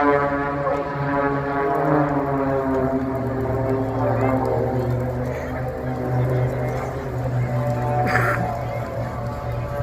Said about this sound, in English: you can hear the power from those engines